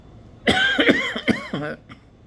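A single close, abrupt cough burst with a few quick throaty follow-up sounds, fading out within a couple of seconds.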